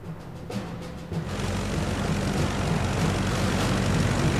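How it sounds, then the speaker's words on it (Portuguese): A North American P-51 Mustang prototype propeller fighter with a 1,100-horsepower engine: a loud, steady engine drone and propeller roar that swells after a second and then holds a constant, close rumble. "Apenas 127 dias depois, o primeiro protótipo do Mustang deixou o hangar."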